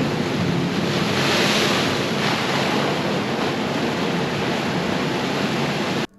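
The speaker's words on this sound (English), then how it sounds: "sometimes waves come crashing over through the rocks there," Ocean waves crash and surge over coastal rocks on the Cape to Cape Track in a steady, loud roar of churning surf, with wind buffeting the microphone throughout.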